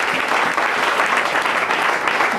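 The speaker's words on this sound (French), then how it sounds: "Acclamez pour la gloire de Dieu." A church congregation claps and applauds continuously, a dense even wash of many hands filling the room throughout.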